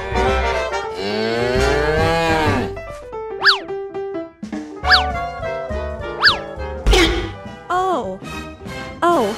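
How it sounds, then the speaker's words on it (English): Cartoonish cows moo in a cow-chasing gorilla game, several long, loud lowing calls mixed with springy boing effects and bouncy music in the foreground. "The country cows are also here."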